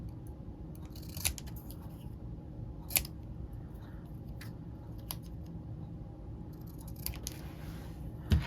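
Scissors trimming paper in a craft session, with several sharp isolated snips spaced a second or two apart over a quiet background, close and fairly soft.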